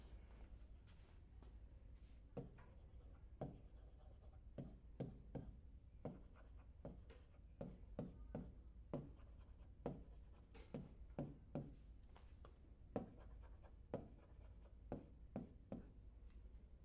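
Pen or pencil drawing music notes on paper, a steady series of short, close scratching strokes and taps at an even rhythm, fairly quiet against a low background hum, with no talking.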